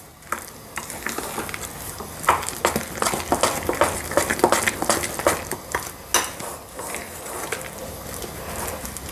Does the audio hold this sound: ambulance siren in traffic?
no